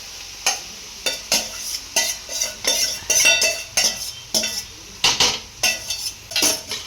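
Rice is stirred into mushroom fried rice in a pan, a spatula scraping and knocking the metal in rhythmic strokes over a soft sizzle, close and clear with no talking.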